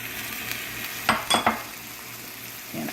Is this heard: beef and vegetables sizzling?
yes